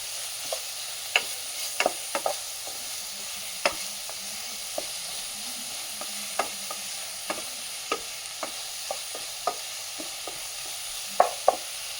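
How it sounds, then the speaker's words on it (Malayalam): Chopped onion with ginger garlic paste frying in a pan for Punjabi-style chole curry, a soft steady sizzle broken by scattered sharp scrapes and taps of a spoon stirring, close and without speech. "ഇതുകൂടി ഒന്ന് ഇളക്കി യോജിപ്പിച്ച ശേഷം സവാള ഉള്ളി ബ്രൗൺ നിറമാകുന്നത് വരെ നമ്മൾ വെയിറ്റ് ചെയ്യും."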